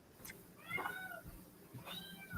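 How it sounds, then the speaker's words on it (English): Two or more house cats meowing repeatedly in drawn-out, wavering cries, faint and somewhat distant over a background hiss, with no talk. "Your cats are going just nuts, right? Do you hear that?"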